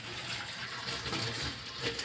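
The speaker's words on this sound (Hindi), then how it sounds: "फ़ौरन ही तवे को पानी के नीचे रख देती हूँ ताकि वो अच्छे तरीके से ठंडा हो जाए" Running tap water pours over a hot griddle pan (tawa) in a home kitchen after breakfast, a continuous close splashing rush with slight fluctuations and no speech.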